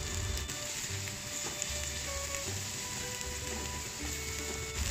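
Garlic fries in oil over low heat while threadfin fish dry-fries, giving a steady close sizzle with light crackling and occasional low stirring bumps and no speech.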